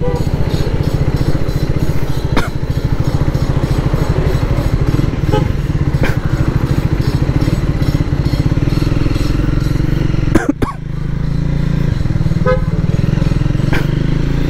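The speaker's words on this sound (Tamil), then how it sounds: "எக்ஸாஸ்ட் நோட் உங்களுக்கு கேட்கும்," Motorcycle under 400 cc cruising at low speed in fourth gear, its steady exhaust drone loud and close throughout, with a brief break in the engine note near the end.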